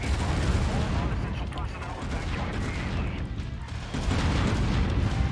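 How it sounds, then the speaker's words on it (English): Missile explosions rumble and boom continuously in MechWarrior 5, a dense, loud barrage of blasts and crackling impacts with no clear gaps between them. "Incoming missile."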